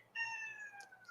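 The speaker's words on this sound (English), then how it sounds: "Just Tiny Kitty was meowing" A house cat gives one drawn-out, slightly falling meow, close and clear against a quiet room.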